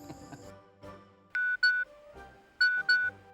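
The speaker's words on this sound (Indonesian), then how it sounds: "Tuh kan, udah dikirim SMS-nya." A mobile phone sounds an SMS notification as a run of bright electronic tones in short paired bursts, clear and close after a brief patch of quiet background.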